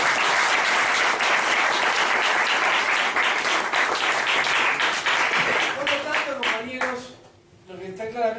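An audience breaks into sustained, dense applause that carries evenly for several seconds, then thins out, with a voice coming in over the last claps.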